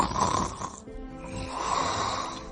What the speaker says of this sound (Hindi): कौन भर रहा है इतनी जोर से खर्राटे?